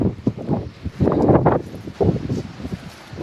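Strong gusts of wind during a rainstorm buffet the microphone in rumbling, uneven bursts, with rustling of an open umbrella in between.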